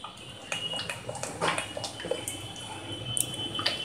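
Water is poured into a cooking pot of Maharashtrian pithla, a steady splashing pour with intermittent brighter splashes and drips, fairly faint and close, with no voices.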